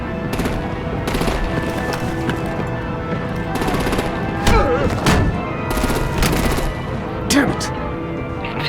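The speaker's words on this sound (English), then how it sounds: "Break out the artillery and disable their vehicles!" Gunfire in Batman: The Enemy Within: bursts of rapid automatic shots and sharp single cracks crowd the scene, loud and close, with voices talking in between.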